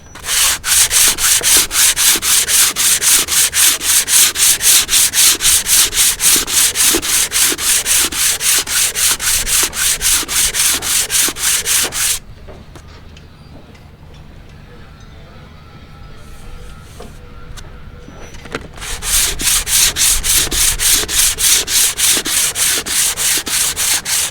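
Dry paint being sanded on a boat hull, a steady rapid scratching that runs loud for about twelve seconds, stops briefly for a quieter pause with faint rustling, then resumes just as strongly.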